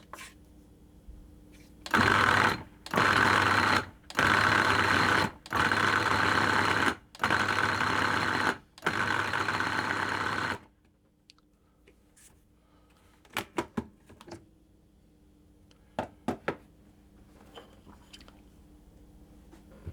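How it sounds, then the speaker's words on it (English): Nuts being pulsed into flour in a food processor for Italian Cuccidati Christmas cookies, six loud motor bursts of about a second each separated by short gaps, then quieter clicks and handling noises. "I'm just going to pulse those a few times to get those combined and fairly well distributed into the flour"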